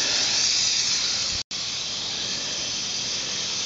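A crop sprayer rig bought at a farm and country store sprays liquid chemicals at an open flow rate, giving a loud, steady hiss that cuts out for a moment and then carries on unchanged.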